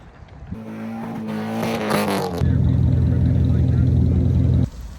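Engine of a manual-swapped Nissan 240SX convertible revving loudly and close by, with a steady droning run in the second half after a rising rev, as voices talk over the first part.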